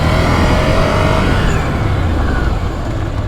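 An 800 motorcycle engine roars up under acceleration and then eases off as the bike brakes, loud and close throughout, with a steady engine drone.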